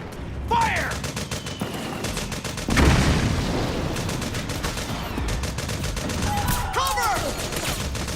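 Sustained gunfire in the video game Metal Gear Solid 4 rattles on for the whole stretch, dense automatic bursts with a heavier boom in the middle, while shouted voices are heard over the battle.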